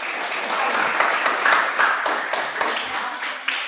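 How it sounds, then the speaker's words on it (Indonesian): Schoolchildren in an Indonesian classroom clap their hands together as a group, a fairly steady patter of many close hands lasting a few seconds with no speech over it. "Mari kita tepuk tangan bersama-sama."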